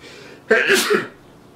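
A single sudden sneeze bursts out close to the listener, short and loud, with quiet before and after.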